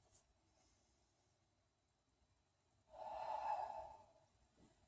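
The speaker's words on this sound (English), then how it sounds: "4 more belly breaths" Deep belly breathing during a slow yoga practice, a soft airy hiss rising into one fuller, louder exhale near the end, close and otherwise quiet.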